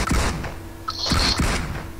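Gunfire in the PUBG Mobile battle royale game, a few brief shots landing at about 0.1, 1.1 and 1.4 seconds over a steady game ambience, fairly close but not very loud.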